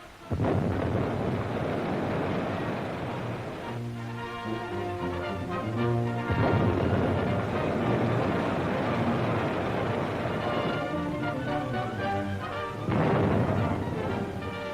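Navy Y guns launch depth charges at a submarine, a series of deep booming blasts and heavy rumbling detonations rolling out over open water, repeated several times at a distance, with no speech.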